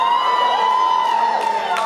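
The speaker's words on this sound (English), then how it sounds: "Everyone's cheering" A convention panel audience cheers and whoops in a large hall, a sustained loud crowd roar with no clear pauses.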